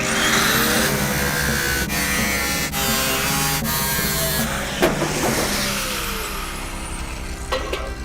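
Supercharged engine of a Jaguar rat rod with a carburetor, running loud and close, its throttle blipped in repeated sharp revs with brief dips between, ending in rougher idle bursts.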